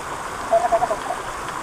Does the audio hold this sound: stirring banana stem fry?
no